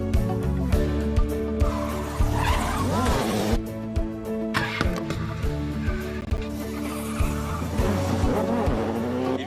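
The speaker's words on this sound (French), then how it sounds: "un coup de frein à main très fort et réaccélérer à fond pour faire pivoter la voiture" A rally car at a rallying final makes a hard handbrake turn, its tires squealing loudly as the engine snarls and revs back up, with repeated bursts of screeching and acceleration close by.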